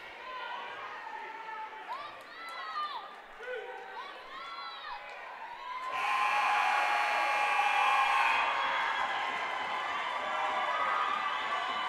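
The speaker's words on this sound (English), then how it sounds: "This crowd's pumped." A gym crowd at a girls' basketball district final roars and cheers, first scattered shouts and whistles, then a loud sustained swell of cheering that carries on to the end, with announcer commentary running beneath.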